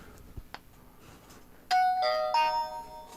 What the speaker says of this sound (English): It's like a doorbell.